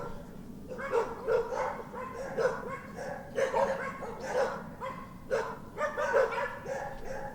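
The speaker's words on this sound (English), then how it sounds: "Crazy, crazy dogs." Several dogs bark repeatedly outdoors near a market garden at dusk, a steady string of overlapping barks and yips at moderate distance, with no talking.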